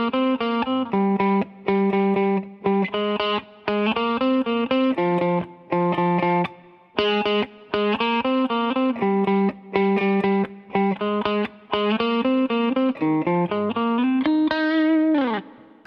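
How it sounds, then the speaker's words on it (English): Loud, distorted electric guitar plays an intro riff: a steady run of chugging, choppy notes ending in a sustained, sliding bend with vibrato. No voices. "So altogether, that intro riff sounds like this."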